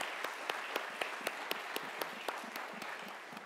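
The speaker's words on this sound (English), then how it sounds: "Let's have a round of applause for our pastors." A church congregation at Sunday morning worship applauds its pastors during Pastor Appreciation Month, sharp distinct claps at a fairly even rhythm over a thin bed of quieter clapping, somewhat distant and soft.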